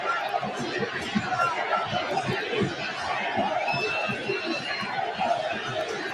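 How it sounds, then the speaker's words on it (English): A large baseball crowd at the Oakland Coliseum in 2023 chanting "sell the team", a steady, loud, rhythmic roar of many voices filling the stadium, with a commentator talking over it. "they're chanting "sell the team""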